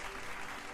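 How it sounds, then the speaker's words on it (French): A crowd at a gamer festival in Saint-Germain-des-Fossés claps for a performer, a short burst of dense, even applause heard from a moderate distance. "qu'on applaudit bien fort pour le Gamer Festival"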